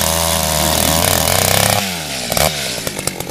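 An ice auger drilling a hole through fairly soft lake ice on a Wisconsin fishing trip, a loud, close, steady motor drone that shifts pitch as the bit cuts through, then sputters and idles.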